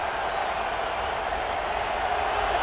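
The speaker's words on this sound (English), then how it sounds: "this home crowd is fired up and ready to make a difference today" Home crowd roaring in the College Football 26 video game, a steady, dense wash of cheering and applause that holds at an even loudness throughout without breaks.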